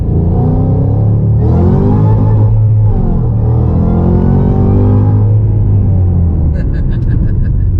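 A car accelerates hard in Mexico with a driver at the wheel, a loud, close engine roar that rises and falls through gear changes while people talk over it.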